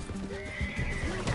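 A horse in the video game Red Dead Redemption 2 gives a clear neighing whinny, with soft hoof clip-clops and light game ambience underneath.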